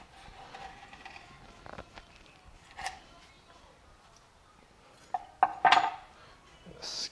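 A knife chops a marlin steak into quarters on a board, giving a few scattered sharp clinks and taps, louder near the end, against faint kitchen background.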